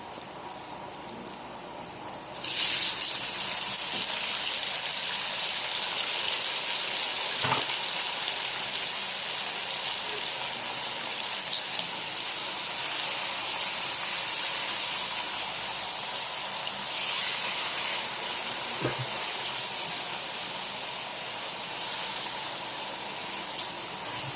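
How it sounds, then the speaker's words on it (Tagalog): Sliced tomatoes hit a hot cooking pan and set off loud, steady sizzling frying that jumps up sharply after a quiet start and holds as a dense hiss with occasional soft clinks. "Ngayon naman ay ilalagay ko na ang ating mga nahiwang kamatis"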